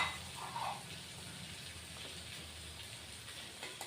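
Pre-fried small fish dropped into a pan of spiced vegetables, giving a faint, steady, rain-like sizzle with no voices.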